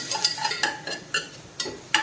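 Repeated scraping and stirring of a spatula in a pan of sautéing onions, a sharp clatter roughly every half second over a soft background sizzle.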